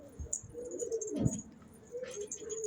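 Pigeons pass close overhead in windy weather, a soft flutter of wingbeats with a few faint coos and a brief rattle, fairly quiet.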